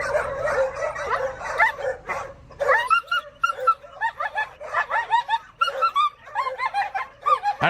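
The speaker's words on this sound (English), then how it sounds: "There's dog talking" A dog whines, yips and whimpers in a rapid, uneven string of high calls broken by a few short barks, loud and close, with no talking.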